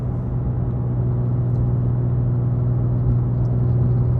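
A steady, low engine rumble from a 2002 Porsche 911 GT2 (996) with an aftermarket exhaust holds a constant drone throughout, with a faint hiss of turbo air on top and no distinct wastegate chatter standing out.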